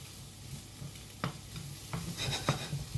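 Onions sizzle gently in a frying pan while a spoon stirs them, giving several distinct scraping strokes over a soft, steady crackle, close and fairly quiet.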